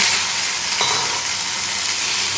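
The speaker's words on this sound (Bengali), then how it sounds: "আগে ঢ্যাঁড়স ভাজাটা চাপিয়ে" Okra fries in a pan with a constant, close sizzle and a brief stirring scrape partway through.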